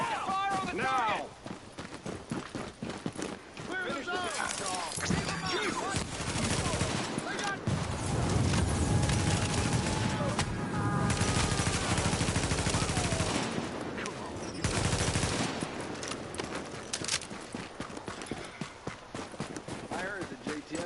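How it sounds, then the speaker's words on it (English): Sustained heavy gunfire in the shooter game The Division, with dense overlapping rifle and automatic bursts rattling almost continuously and shouted voices cutting in over the shooting. "Open fire! Now!"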